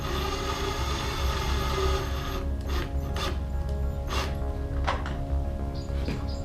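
Fasteners on flush mount rod holders being carefully tightened on a kayak, giving close, rasping scrapes and creaks from the tool, along with a few light knocks and no talk.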